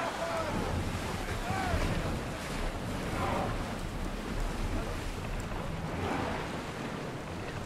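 Ship heading out of port across open sea in Assassin's Creed Odyssey, with a steady wash of waves and wind-like rushing that holds at an even, loud level throughout, faint voice-like tones drifting in and out beneath the surf.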